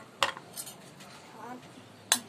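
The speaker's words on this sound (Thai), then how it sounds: "ต่อไปก็แค่แกะปลากระป๋องไม่มีอะไรมาก" A metal spoon scrapes and clinks against a bowl while canned fish is broken apart for a Thai spicy canned fish salad, with two sharp clanks and soft scraping between them, close and fairly quiet.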